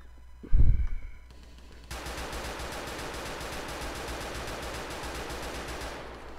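AK47 gunfire battle in GTA 4: a loud single bang near the start, then sustained dense automatic fire rattling continuously for several seconds before cutting off.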